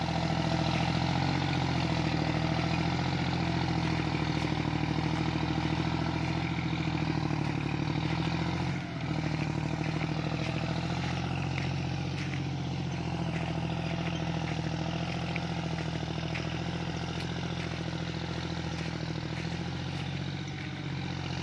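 A John Deere 5045D tractor, a 45-horsepower model, runs steadily while pulling a fertilizer ripper through a sugarcane field, its engine holding a continuous loud, even drone with only a brief dip midway.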